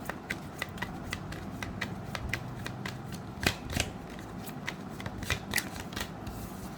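Tarot cards being shuffled at close range: quick papery riffles and soft slaps keep a steady rhythm, with sharper card snaps standing out in the middle, and there is no talking.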